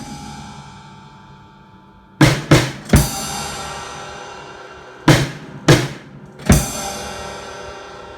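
Drum kit fill played right, left, then right hand together with the kick, two sets of three sharp crashing hits in quick succession, loud and close with ringing decay between them.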